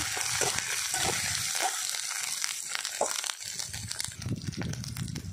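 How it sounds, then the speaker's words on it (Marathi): Ground masala paste with turmeric and salt sizzles steadily while being sautéed in a pan for Maharashtrian pav vada, with soft scraping and stirring noises over a constant frying hiss. "थोडीशी हळद आणि चवीनुसार मीठ एक दोन मिनटं आपण परतून घेऊया"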